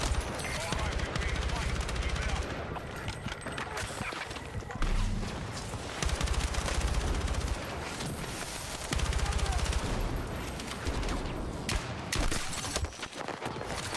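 Gunfire in the video game Battlefield 6 battle royale, repeated bursts of shots and rattling automatic fire in clusters over a continuous game soundscape, with a voice talking at points.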